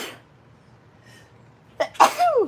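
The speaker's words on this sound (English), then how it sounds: "Oh, I'm gonna sneeze." A single close, loud sneeze from an adult crocheting indoors, with a short sharp intake burst just before the main explosive blast.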